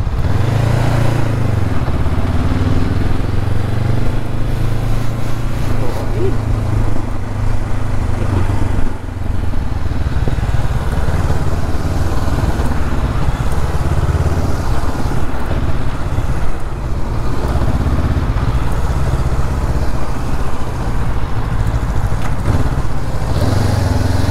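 A 2024 Honda CB500R motorcycle on a test ride, its engine droning loud and steady with continuous wind and road roar and small shifts in pitch, and no speech.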